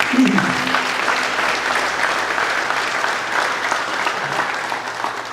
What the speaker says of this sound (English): So I want to give them all a round of applause again.